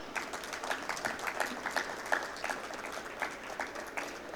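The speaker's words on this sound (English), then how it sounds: "A big round of applause for Sri Vipul Shah." An audience at a talk event applauds a guest being introduced, a steady, moderately distant patter of many hands clapping that carries on throughout.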